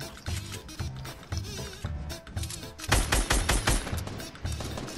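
Rapid automatic gunfire in the Fortnite battle royale video game, a steady rattling stream of shots that grows louder and denser toward the end, close and continuous.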